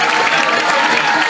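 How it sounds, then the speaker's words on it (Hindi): An audience gives a short, loud, dense burst of clapping and some crowd noise for a speaker at a motivational talk, brief and steady throughout. "सो एक बार बजा दो मेरे लिए तालियाँ"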